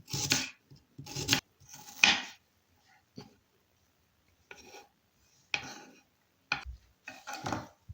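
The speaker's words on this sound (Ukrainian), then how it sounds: "Спочатку беремо цибулину." A large onion quarter is chopped into cubes with a knife on a board, a series of short separate cuts and taps with quiet gaps between, close and alone.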